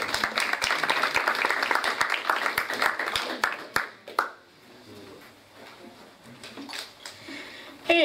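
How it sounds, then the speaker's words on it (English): A room of people applauds, dense clapping that tapers off after a few seconds, leaving quiet murmurs and a few scattered sounds. "So please round of applause"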